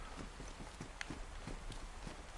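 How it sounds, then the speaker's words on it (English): Footsteps in the DayZ video game, a steady rhythm of soft thuds over constant background noise, like someone walking at an even pace indoors. "I think I'm hearing my own steps."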